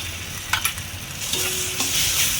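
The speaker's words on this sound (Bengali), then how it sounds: "টমেটো সস ভালো করে এর সঙ্গে মিশাচ্ছি" Spices and tomato sauce for pomfret curry stirred and frying in a pan: a steady sizzle with a few sharp spatula scrapes near the start, close and continuous.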